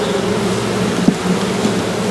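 Honey bees buzzing around an open hive during an inspection, a steady dense hum close by with no talking.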